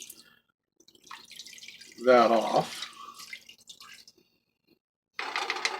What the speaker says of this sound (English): we are adding water. 2 cups. I'm just going to kind of pour it over that